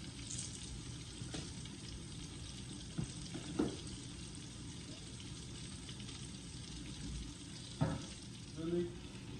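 Vegan hamburger steaks fry in a pan with a steady, even sizzle throughout, broken by a few soft clinks and brief stirring or handling noises.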